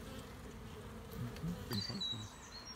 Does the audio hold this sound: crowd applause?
no